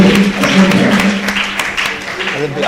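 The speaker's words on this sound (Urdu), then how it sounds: "زوردار تالیوں میں" Audience applause at a naat competition, a steady dense wash of clapping with a voice speaking over it.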